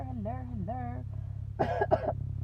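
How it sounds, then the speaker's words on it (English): Two quick, harsh coughs close to the mic, following a stretch of drawn-out voiced sounds over a steady low hum. "I still kind of got a cough"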